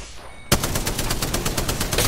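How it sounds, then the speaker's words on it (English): Rapid enemy gunfire in the shooter game Apex Legends, starting abruptly after a quiet half second and continuing as a loud, steady burst of closely spaced shots with no talking. "Enemies are shooting at me."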